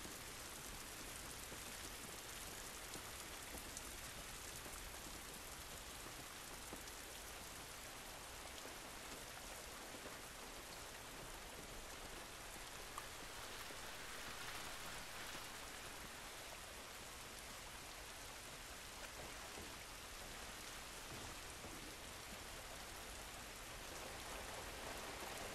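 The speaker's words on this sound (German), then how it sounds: "Dieser Regen ist nicht gut für uns." Steady rain falling in The Last of Us Remastered, a constant even hiss of drops on surfaces that continues without a break at low volume.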